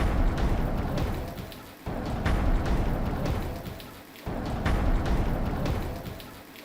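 Heavy monsoon rain pours down across Gujarat in a dense, steady roar that swells and eases in waves, with low rumbling undertones and no voices.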